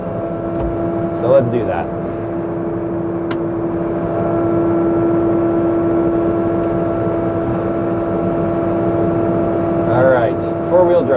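A compact tractor pulling a box blade labors with a steady engine drone as its tires spin for traction before the shift to four-wheel drive, with someone talking briefly over the noise.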